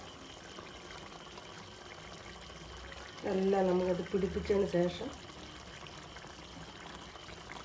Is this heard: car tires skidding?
no